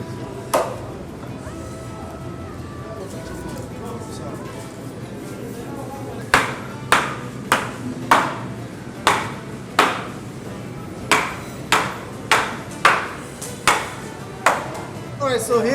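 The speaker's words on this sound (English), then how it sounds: "This is when you remove those fins and then now you cut it into sticks." Knife chopping kingfish into sticks for a Swahili fish curry, a steady series of sharp, evenly spaced thwacks on a board, close and clear, with a quieter single cut near the start.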